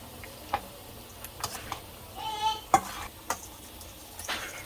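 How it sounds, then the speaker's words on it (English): Biryani ingredients being stirred together in a bowl, soft irregular clinks and scrapes of a spoon with a brief wet squish, quiet and close with no talking. "So I'm gonna mix these up together and set this aside."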